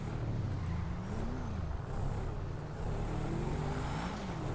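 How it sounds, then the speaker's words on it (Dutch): A car engine in the game FiveM hums and rises in pitch as the vehicle pulls away, steady and fairly close with a rumbling low end. "daar rijdt hier alleen een auto weg"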